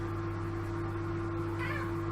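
A cat meows in a drawn-out, slightly rising call near the end, over a steady low hum of background noise.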